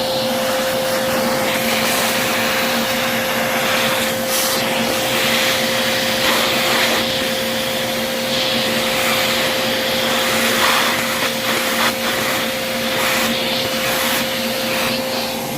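A vacuum cleaner sucks caked dust from a dirty Technics 1200 MK2 turntable, a loud, continuous, steady roar with a whining tone, close up and alone.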